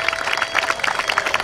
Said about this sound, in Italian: Allora, con pubblico applauso